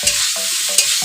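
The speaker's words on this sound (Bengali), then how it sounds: "এখন সিদ্ধ করে রাখা ডুমুরটা দিয়ে দেবো" Boiled figs, dumur, hit a hot pan with a brief loud sizzle and two quick scraping stirs within about a second, close up and alone.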